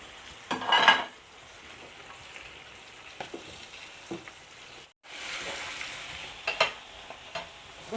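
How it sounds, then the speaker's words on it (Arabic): Tomatoes sautéing in a pan for a seafood dish, a soft steady sizzle with occasional utensil clinks and scrapes, including a brief louder stir near the start. "نسقط الطماطم"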